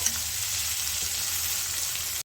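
Onions soften in a hot pan while cooking for a beans palya, giving a steady, even frying sizzle that stays close and continuous throughout with no voices.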